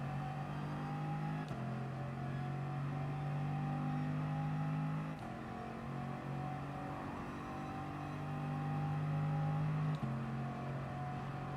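Race cars circling Monza in a racing video game, a steady loud engine drone with shifting pitch and brief gear-change breaks, several cars blending together with no voices over them.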